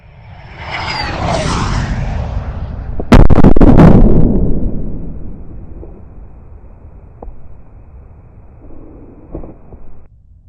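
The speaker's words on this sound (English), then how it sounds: "the sounds you have just heard there are the confirmation that our anti-missile services have just neutralized the threat of a nuclear weapon" A missile whooshes in and is shot down by anti-missile defences, with a loud close explosion followed by fainter scattered blasts and pops fading into the distance.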